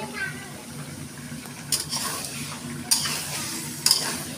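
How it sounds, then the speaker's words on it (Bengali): Meat being stir-fried in oil with salt for biryani, heard as a soft steady sizzle broken by a few sharp scraping stirs of a spoon against the pot, with quiet talking in the background. "মাংসগুলো এখন কষানো হবে"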